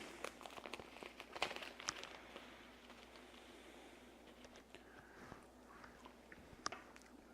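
Someone chewing dried thyme, close and quiet: irregular crisp crunches and crackles over a faint room hiss, with no talking.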